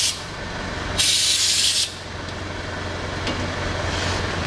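A short aerosol burst of DataDot sprays onto a 4WD engine block, a bright hiss lasting under a second over steady background rumble, close and fairly loud.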